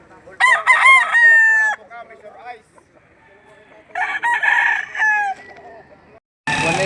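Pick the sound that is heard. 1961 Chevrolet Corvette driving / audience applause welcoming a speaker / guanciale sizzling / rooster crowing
rooster crowing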